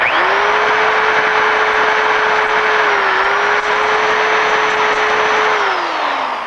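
A power drill bores a hole into a lugged bicycle frame lug, its motor whining in one steady loud high tone that holds near-constant, dips briefly midway, then winds down at the end, no voices present.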